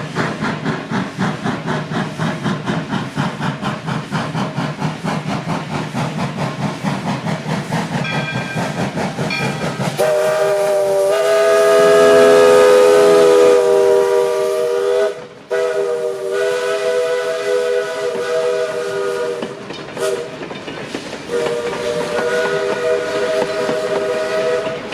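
Wood-burning 0-6-0 steam locomotive number 924 chuffs steadily and loudly, then its steam whistle blows a long sustained chord, drops briefly, and sounds again over the rumbling engine.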